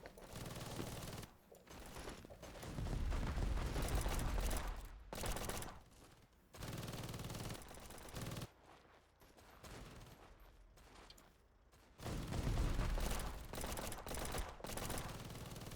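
Bursts of machine gun fire in the war video game The Patriotic War, long rattling volleys broken by short pauses, loud and close, with no speech.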